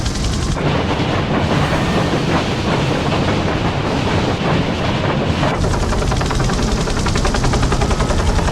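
A runaway train in Syphon Filter 2 roars loudly and continuously, with heavy rumbling and clattering wheels throughout and a harsher metallic rattle building near the end.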